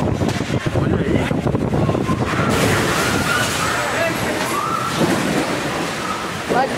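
Strong storm wind in the Amazon, roaring and gusting loudly and constantly with heavy buffeting on the microphone, while excited voices shout underneath.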